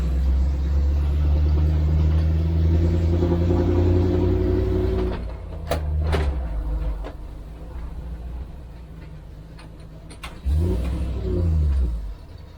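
An old car engine left undriven for twenty years revs and strains with a loud, deep drone that rises and holds, drops off into a rougher idle with a few sharp clicks, then surges again briefly.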